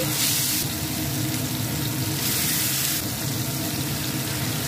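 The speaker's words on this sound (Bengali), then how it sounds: "তো তেল গরম হয়ে গেলে মাছগুলো আমি ছেড়ে দিলাম" Fish fillets dropped into about three tablespoons of hot oil for a beach-style fish fry, giving a steady, loud, continuous sizzle and hiss that holds up through the whole stretch, with no voices over it.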